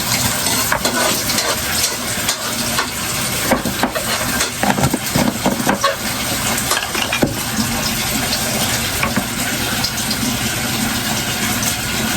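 Steady, loud sizzling of onions frying in a hot pan, with stirring scrapes and crackles throughout and no talking.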